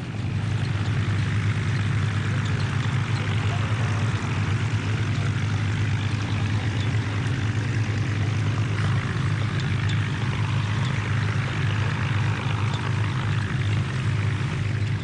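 Rolls-Royce engines of WWII Hurricane and Spitfire fighter aircraft drone steadily with a deep, continuous propeller roar that holds at an even loudness throughout.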